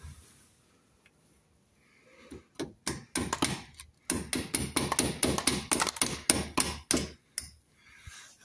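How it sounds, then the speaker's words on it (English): Hammer and punch driving a rear suspension lower shock bolt out of a Jaguar XK8. A few isolated metallic blows give way to a rapid, steady run of close, sharp strikes, with no talking. "And then I've got a hammer and a punch."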